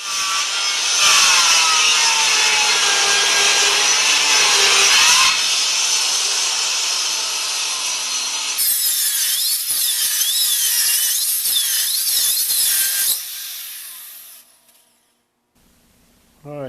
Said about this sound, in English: And we'll do that using this table saw, and we'll see how it goes.